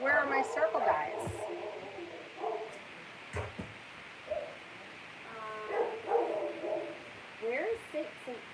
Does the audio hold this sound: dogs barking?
yes